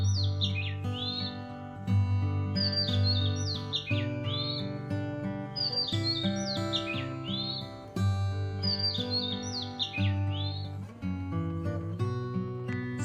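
An Indian roller calls in a repeated phrase of quick, bright chirps and tweets, coming back about four times at a steady pace over a constant musical background.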